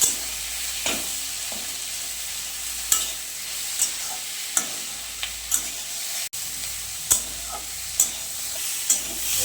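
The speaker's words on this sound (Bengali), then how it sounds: "টমেটোগুলো দিয়ে দিলাম একটু জাস্ট ফ্রাই করে নেবো লবণ দিয়ে দেবো" Tomatoes seasoned with salt fry in a pan with a steady hiss, while a spatula stirs them and scrapes and taps against the metal at irregular moments.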